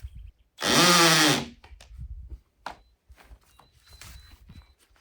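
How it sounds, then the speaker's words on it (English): A hammer drill bores a hole in one loud, sustained burst of about a second, with a rising whine, then stops. Footsteps and light knocks and handling on a building site follow. "The second I hit the trigger on that hammer drill, it reminds me, put your ears in."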